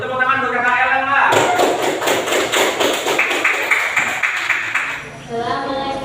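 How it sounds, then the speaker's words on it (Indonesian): Audience at a Cirebon PPPK orientation session clapping for a presenter, a dense burst of applause rising after a brief voice and continuing for several seconds before tapering off. "Tepuk tangan buat Kakak Elang lah."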